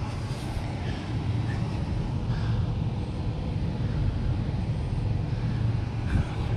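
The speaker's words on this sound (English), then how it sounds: "But it sound like the blower motor just running." Goodman furnace blower motor running steadily on a furnace flashing three blinks with no heat, a constant low whooshing hum with airy rumble, moderately faint and unbroken, no voices.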